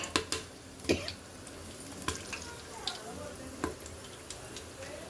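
Whole garam masala spices, shahjeera and bay leaf crackle as they fry in oil in a cooker for prawn biryani: close, sharp pops and ticks scattered irregularly over a soft continuous sizzle.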